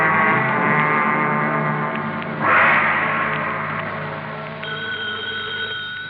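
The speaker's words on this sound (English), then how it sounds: "Is that the phone, Inspector?" A telephone-style bell rings steadily beneath sustained orchestral music in a 1943 radio comedy scene set in a police headquarters office, with a brief louder burst midway.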